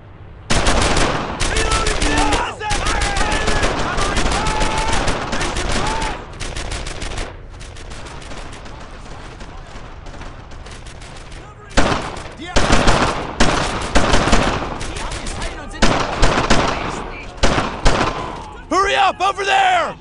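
Loud, sustained machine-gun bursts and rifle shots in a World War II shooter game (Brothers in Arms: Earned in Blood), near and dense, breaking into shorter volleys with soldiers shouting amid the firing.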